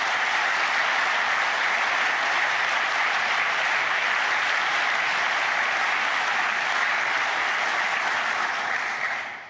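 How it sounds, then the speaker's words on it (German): Sustained audience applause at a formal anniversary ceremony, dense and even for nearly ten seconds before fading out at the very end, with no voices over it. "hoffe auf einen großen Applaus für Herrn Tietmeyer und für Herrn Weinzierl"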